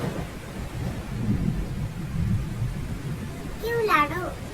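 Thunder rumbles low and steady with rain hiss through a cartoon jungle storm, swelling near the end as a bright, wavering high call briefly cuts over the downpour.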